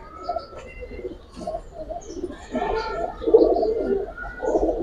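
Pigeons in a market setting coo and call repeatedly at close range, soft throaty burbles overlapping with a few chirps and light rustling.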